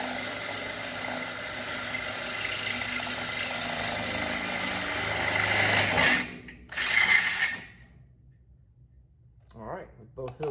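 A drill bores mounting holes for a natural gas regulator on a DuroMax XP12000EH tri-fuel generator. A steady mechanical whine lasts about six seconds, a short second burst follows, then near silence before a brief voice.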